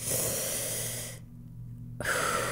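A single long breath drawn in through the nose, soft and airy, with no talking around it.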